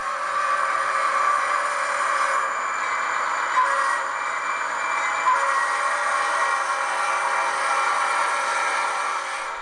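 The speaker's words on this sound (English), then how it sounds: "today I'm running some of the new SD40-2s from ScaleTrains rivet counter line here on my MKT Sedalia subdivision layout" ScaleTrains EMD SD40-2 six-axle diesel model locomotives running on an MKT Sedalia subdivision model railroad layout, giving a steady, even mechanical hum with faint tonal lines throughout.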